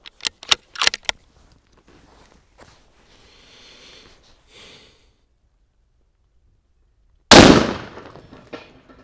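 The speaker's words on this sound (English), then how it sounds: "kroz koliko će cigli da prođe lovački soft point PPU 308 Winchester?" A Bergara B14 Sporter rifle fires a single PPU .308 Winchester hunting soft-point round into bricks outdoors: one sharp, loud, close crack with a brief decaying tail, after a few light clicks and handling sounds.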